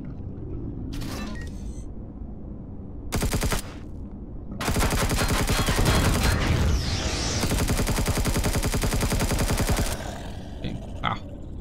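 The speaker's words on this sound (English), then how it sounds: "He's firing at me." Bursts of automatic gunfire in the space survival game Empyrion Galactic Survival, with short volleys early on, then a long sustained loud stream of rapid shots, some rumbling, and quieter scattered sounds at the end.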